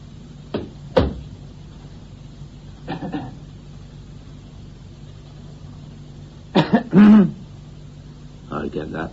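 A man in a science fiction radio drama coughs in short, sharp bursts, a few spaced apart and then a cluster of harsher ones, heard close and alone against a quiet background.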